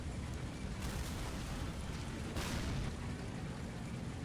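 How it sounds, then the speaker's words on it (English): Artillery and tank guns firing in the Men of War: Assault Squad video game, heavy British landship tanks and a big howitzer among them, a dense, distant rumble of booms with a couple of louder blasts rising above it. "All the guns are being fired right now."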